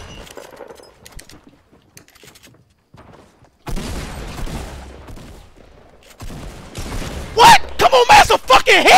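Pump shotgun blasts in Fortnite, a video game, ring out as sharp, loud bursts clustered near the end, following a stretch of quieter game noise, with a voice talking over the action.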